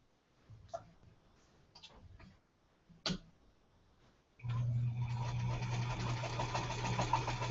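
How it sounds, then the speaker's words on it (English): Scattered light clicks and taps of fabric being positioned, then a sewing machine starts up and runs steadily and loudly, stitching two L-shaped quilt pieces together for a sampler quilt. "what I want to do is sew these two L pieces together"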